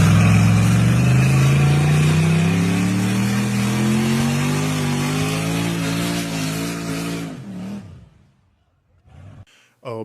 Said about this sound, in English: this 1982 Mustang GT is packing turbocharged LS power and a full lineup of racing-grade components